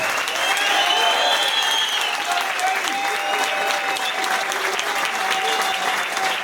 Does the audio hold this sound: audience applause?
yes